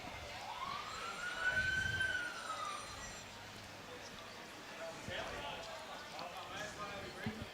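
Faint emergency vehicle sirens wail in the distance behind an outdoor lawn bowls finals match, a single rising-falling sweep drifting under steady ambient noise and nearby voices.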